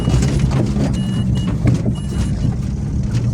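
A loud, steady motor drone from a used Geely Emgrand 7 with 106,000 km on it fills the whole stretch, rumbling low and continuous as the engine pulls through the gears, close by with no voices.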